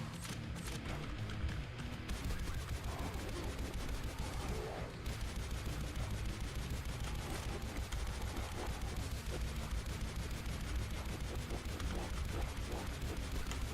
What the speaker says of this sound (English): The rocket launcher is just so juicy sounding.